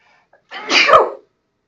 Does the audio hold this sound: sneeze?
yes